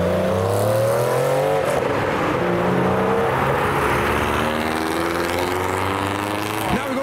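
Porsche sports car engine revving loudly up close, throttle rising and easing in sweeping pitch changes over a continuous rough exhaust roar.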